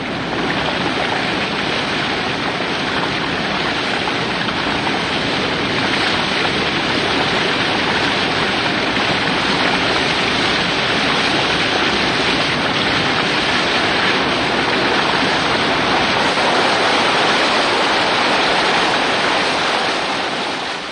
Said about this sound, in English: every mile or two there were side streams coming down into the main river